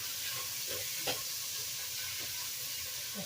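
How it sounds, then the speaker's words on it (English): Ground hamburger meat, one pound, browning in a pan while being stirred: a steady low sizzle and crackle with soft scraping stirs and one brief clack, close and unaccompanied. "I have 1 pound of hamburger meat browning. Let me step aside and stir that"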